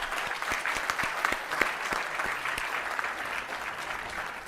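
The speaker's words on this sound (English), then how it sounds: "A big clap to Rama Devi Garu." Audience applause at an international conference in Vijayawada, a dense steady clapping from a crowd that carries on unbroken at an even level with no voices.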